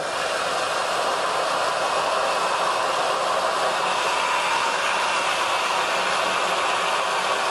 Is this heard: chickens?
no